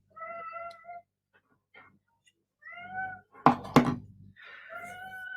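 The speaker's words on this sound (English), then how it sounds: "My cat believes that he's starving." A hungry house cat meows repeatedly, close and clear, several separate cries with pauses between them, broken by a couple of sharp knocks or thunks in the middle.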